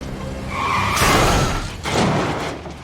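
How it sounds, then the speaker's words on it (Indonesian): A vehicle crash in the action film Extraction: screeching tires skid loudly, then a heavy impact bursts out with a second crunching hit, all close and with no talk. "Tapi kemudian Taylor muncul dan menabrak Saju."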